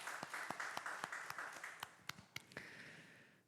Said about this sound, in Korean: 우리 하나님 앞에 감사의 박수, 영광의 박수 올려드립시다.